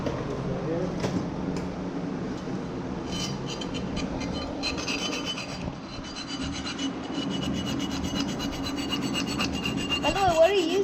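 A hand saw cutting metal on a Honda K20A2 oil pump during a swap into a K24 engine, a continuous rasping, scraping sound at moderate level that carries on without pause.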